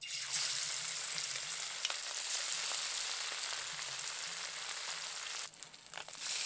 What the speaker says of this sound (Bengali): এবার মাছগুলো অল্প অল্প করে দিয়ে ভাজবো।